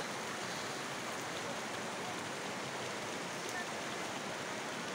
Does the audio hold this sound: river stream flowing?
yes